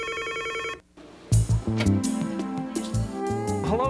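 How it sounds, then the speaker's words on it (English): An old telephone rings with a bright electronic trill that cuts off, followed by other clattering tones and sounds, loud and close. "So often Sundays will begin with a Burt Rutan phone call."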